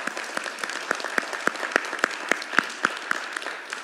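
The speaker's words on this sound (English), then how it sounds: "Give yourselves a round of applause." A church congregation at a Baptist homecoming service claps, with sparse, fairly distinct individual claps standing out in an uneven rhythm over a softer background of hands.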